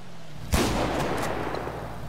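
A single gunshot in a GTA police roleplay game, a sharp loud crack at about half a second that rings out into a long fading tail, with no talking.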